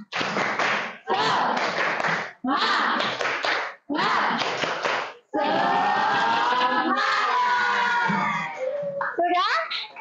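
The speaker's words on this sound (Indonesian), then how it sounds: "Tepuk semangat." A group of schoolchildren and their teacher perform a rhythmic spirit clap in a classroom, bursts of quick claps alternating with loud shouted chants, close and energetic, ending in mixed voices.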